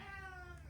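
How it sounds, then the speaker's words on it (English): A single drawn-out cat meow, faint and tonal, lasting under a second. "And I apologize for my cat meowing."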